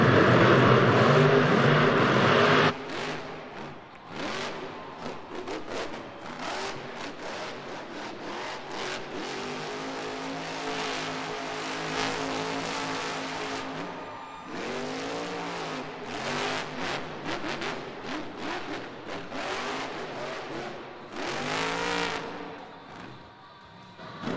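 Gravedigger monster truck engine roaring through a Monster Jam freestyle run at Belmont Park, a distant, loud revving that rises and falls in repeated surges over a steady arena background.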